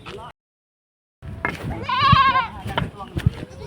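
A goat kept for sale bleats loudly and close by in a single wavering cry, with people talking around it before and after.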